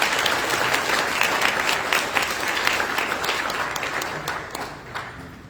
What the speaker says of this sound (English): We're going to give him a round of applause anyway.